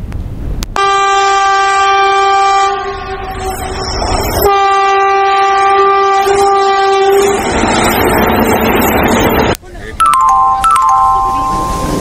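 A train at a railway station sounds its horn in long, loud sustained blasts, with rumbling rail noise and clatter in between, then a shorter burst of horn near the end.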